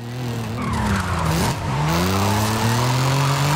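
Drift car in Forza Horizon 5 sliding through a corner, engine droning at steady high revs with a sustained tire skid, a brief dip and then rising pitch as it accelerates out, loud and close with no talk.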